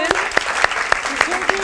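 Studio audience on a Turkish morning talk show applauding for a sports trainer, heard as a short run of evenly spaced claps with talking over it.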